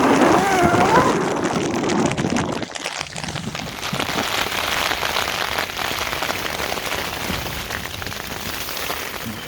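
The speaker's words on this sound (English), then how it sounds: "starting to rain. It's more like hail coming down now" Rain mixed with hail pelting surfaces outdoors in the mountains, a dense crackling patter with gusts of wind noise, steady and close throughout, with a brief whistling tone at the start.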